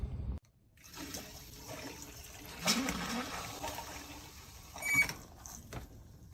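Pink RV antifreeze is run through the water lines of an Imagine 2950RL travel trailer, giving a soft, flushing rush of liquid that swells twice over a low, continuous trickle in a quiet interior.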